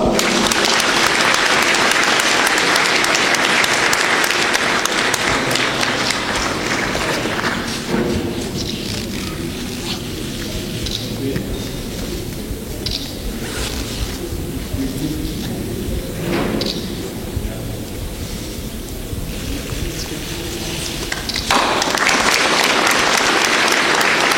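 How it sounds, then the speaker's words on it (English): Sustained audience applause at a formal ceremony where a chief guest and the VC sign documents, loud and dense at first, thinning through the middle with a murmur of voices beneath, then swelling back up at the end. "Let's appreciate. Let's clap."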